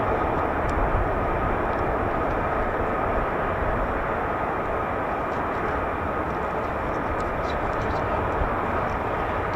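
F-15 and F-35 fighter jets taxi at RAF Lakenheath, a continuous loud, broadband jet engine roar filling the air without letup, with a voice faintly underneath.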